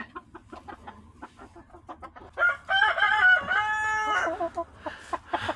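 A chicken clucks in short, close bursts, then a loud crow rings out for about two seconds before more scattered clucking follows.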